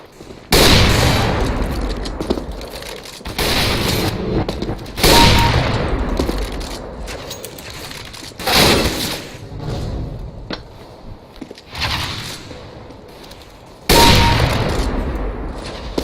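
Scoped rifle gunshots in the video game CS:GO, several loud sharp shots spaced a few seconds apart, each with a brief echoing tail, over faint game ambience and no talking.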